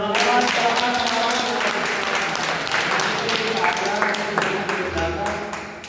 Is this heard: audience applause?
yes